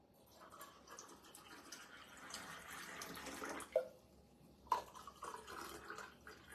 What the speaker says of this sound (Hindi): अब ठंडा ठंडा पानी डालूंगी